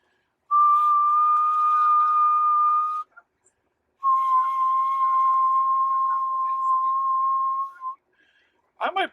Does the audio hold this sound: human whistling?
yes